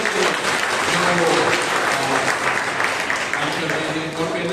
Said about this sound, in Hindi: तो हम प्रभु को तालियां बजाएंगे